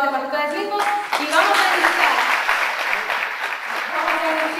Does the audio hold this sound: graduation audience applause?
yes